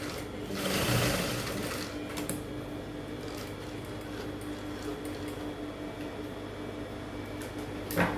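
A sewing machine stitches a fitted pencil skirt with a steady, fast mechanical whir and clatter that holds at an even level, with a short louder burst near the start and a faint click at the end.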